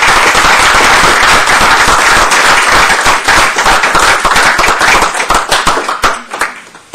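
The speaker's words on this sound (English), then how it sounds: "How about a round of applause for our new leader?" Audience at a town board meeting gives a new leader a loud, dense round of applause, the many claps holding steady and then thinning into scattered individual hand claps near the end.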